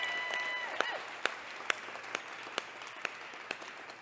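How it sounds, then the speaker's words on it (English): An audience at a live real-estate development event breaks into applause, a steady, moderately distant wash of many hands clapping with a few sharper individual claps standing out across the whole stretch. "we should have like a round of huge applause"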